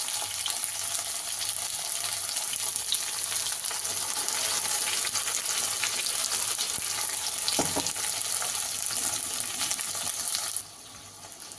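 Ground masala paste sizzles steadily in a pan while okra sambar is cooked, a loud, even hiss that runs without a break and cuts off abruptly near the end; no voices.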